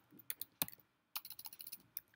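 Quick bursts of keystrokes on a computer keyboard, close and clear, with a short pause midway before a faster run of taps.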